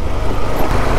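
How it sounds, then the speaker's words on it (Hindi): A bus rolling along a dusty mountain road in Mustang, Nepal, its engine a steady, close, broadband rumble with road noise filling the whole second and no talk over it. "बस जो आ रहा ना बहुत धूल उड़ाएगा"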